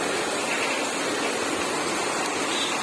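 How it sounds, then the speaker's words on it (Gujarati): Heavy rain pours down onto a house terrace as a dense, steady, close roar of falling water, continuous and unbroken, with no voices. "બહુ જોરથી વરસાદ પડતો છે"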